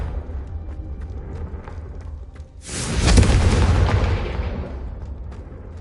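Confringo fire spell explosion in Hogwarts Legacy: a sudden loud blast after a quiet stretch, followed by a roaring, crackling burst that slowly fades over a couple of seconds.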